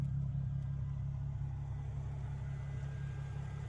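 A steady, low idle from a Nissan 370Z sports car exhaust rumbles throughout, a deep even burble with no revving or pauses, fairly close and constant.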